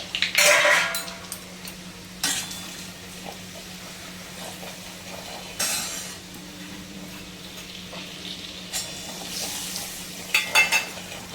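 Spices frying and being stirred in oil for a traditional homemade besan shengole amti, with soft sizzling and intermittent bursts of stirring and pan scraping, close by, with a steady low hum underneath.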